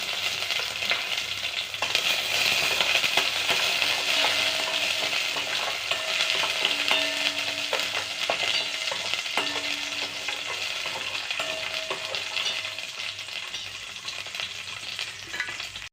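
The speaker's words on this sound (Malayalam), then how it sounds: "നെയ്യ് ചൂടായിട്ടുണ്ട് അതിലേക്ക് കശുവണ്ടിയും മുന്തിരിയും നമുക്കൊന്ന് വറുത്തെടുക്കാം" Cashews and raisins fry in hot ghee for sago payasam, a steady close sizzle with occasional stirring scrapes throughout, without any talking.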